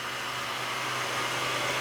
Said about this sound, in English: Make sure that you guys keep moving your heat gun or your blow dryer.